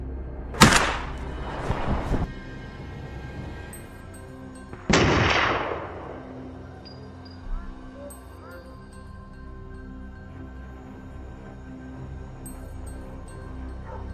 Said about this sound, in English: One after another, the boars were brought down in a storm of gunfire and barks.